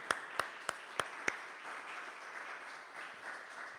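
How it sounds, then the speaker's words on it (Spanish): Church congregation applauding, a few sharp, evenly spaced claps standing out at first over a soft, fading patter of wider clapping in a reverberant room. "Hay que darle un aplauso a nuestro Dios, Él es digno."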